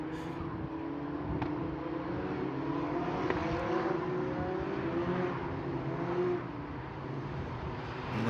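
Race cars in a Eurocup-3 race at MotorLand in 2023, lapping behind the safety car: a blended, moderately distant engine whir with several overlapping tones rising and falling as cars pass, steady throughout.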